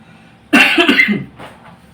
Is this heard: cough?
yes